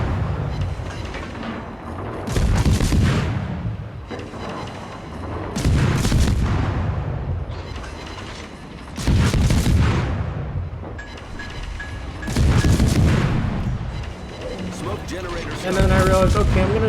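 Naval guns fire from the destroyer Lo Yang in World of Warships. Heavy booming salvos repeat roughly every three seconds, each trailing off into a rumble, with a voice talking over them.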